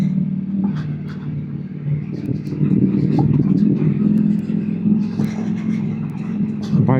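A Ducati V4 Pikes Peak motorcycle ridden over a rough off-road track, its engine a loud continuous rumble near at hand, with bumps, rattles and sharp knocks from the uneven ground.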